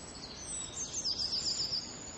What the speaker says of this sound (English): But in fact, it's the call of the tree creeper.